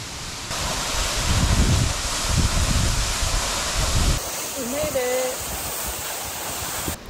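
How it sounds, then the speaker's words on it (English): A waterfall near a temple in Gunma, Japan roars as a broad continuous rush of falling water, loud and close, then partly gives way to wind and voices talking partway through. "the waterfall was really impressive."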